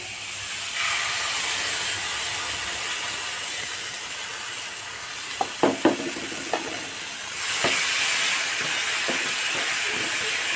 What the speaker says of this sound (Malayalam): ഇനി അടിച്ചെടുത്ത് തക്കാളി ഒഴിച്ചു കൊടുക്കാം കേട്ടോ